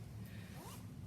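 A zipper running around the top of a cylindrical, bucket-shaped Vera Bradley fabric pouch makes one short, quiet sliding rasp with no voices.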